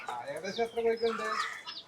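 Hens in a home backyard flock of around 400 chickens and chicks, giving a run of nearby clucks over about two seconds, mixed with a voice talking.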